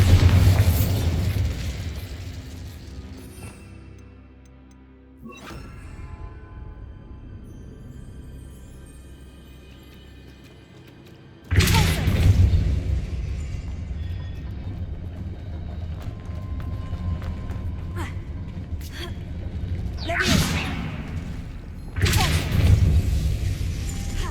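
Spell explosions in Hogwarts Legacy, including the Bombarda blast, come as several loud booming bursts with whooshing tails separated by quieter rumbling stretches and a near-silent gap, with no voices.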